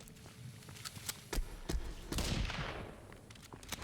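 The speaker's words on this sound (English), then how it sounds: "We're gonna have to shoot this thing." Gunfire in the video game Sons of the Forest, with several sharp shots in a loose run and a longer burst near the middle, mid-distance and moderately loud over faint footsteps.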